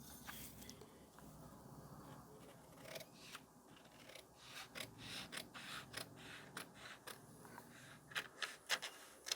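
Scissors snip through blouse fabric along the back neckline, a series of crisp, close cuts that grow louder and come faster toward the end, with no voices.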